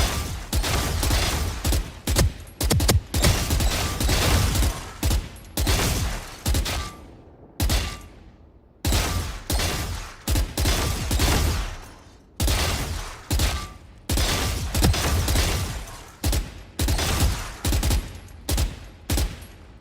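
Phantom rifle fire in Valorant aim practice: loud, close automatic bursts in rapid sustained volleys, separated by brief pauses, repeating steadily throughout with no voices.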